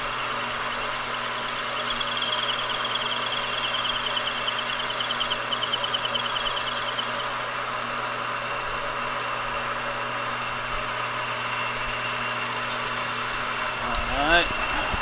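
Hand-fed facing cut on a metal lathe, a steady whirring and rubbing hum of the machine running continuously at moderate level, with faint scraping toward the end.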